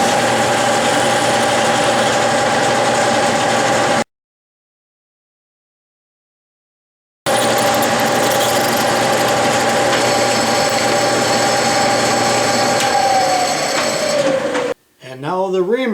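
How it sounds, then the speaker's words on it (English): A pilot drill bores through metal for a Stuart steam engine part, giving a steady machine whine in two stretches separated by silence, with a short voice at the very end. "And now the pilot drill all the way through."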